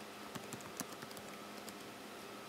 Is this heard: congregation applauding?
no